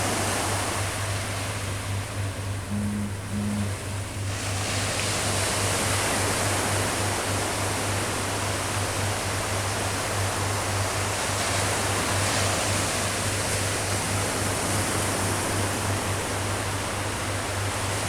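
Sea waves at a beach in Goa make a steady, loud broadband wash that barely changes for the whole stretch, with a low constant hum beneath and no voices.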